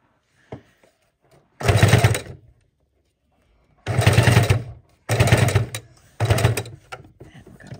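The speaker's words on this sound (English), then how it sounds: "we're going to sew around that" A sewing machine stitches around a fidget quilt in four loud, close bursts of rapid mechanical whirring, separated by pauses, with a faint tap before the first run.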